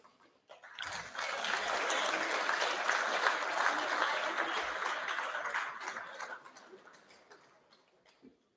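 Audience applause at a Year 11 school prize giving assembly, a steady broadband clapping that swells quickly, holds for several seconds and tapers off toward the end, with no talk over it.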